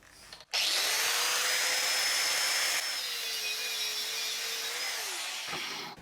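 An angle grinder-type power cutter bites into a metal bolt in a home workshop, starting abruptly and then holding a loud, steady high-pitched screech with a shifting whine as the blade works through, before winding down near the end.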